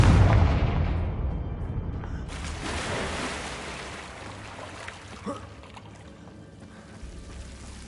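The Confringo fire-blast spell goes off in the Hogwarts Legacy video game as a loud booming blast with a rushing roar that slowly fades, followed by a short crack and quieter tail.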